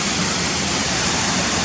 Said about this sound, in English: that's looking up at the top of the waterfall there now